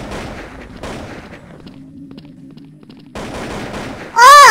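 Rapid bursts of gunfire in the Vietnamese online shooter Truy Kich, with a gap of quieter shots midway and then a sudden loud sweeping effect at the close.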